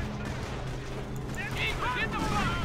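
Anti-tank gun fire in Company of Heroes, booming shots under a steady battlefield rumble, with a voice talking across part of it.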